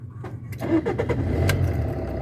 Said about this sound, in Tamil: வண்டி ஸ்டார்ட் ஆகுது